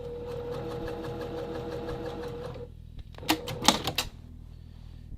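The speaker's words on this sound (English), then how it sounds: "I'm going to go ahead and tack them with the sewing machine just to make them more stable" A sewing machine runs in a steady, fast mechanical whir while tacking fabric, then stops, followed by a few sharp clicks and clatters close by.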